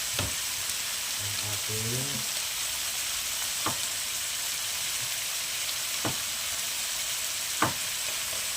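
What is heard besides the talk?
shrimp frying and sizzling in a pan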